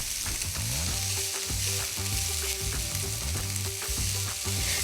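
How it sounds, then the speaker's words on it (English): Chorizo frying steadily in a pan for a butterbean and feta soup, a continuous close sizzle with faint tonal hum underneath, no voices. "we'll let the chorizo cook for another couple of minutes first"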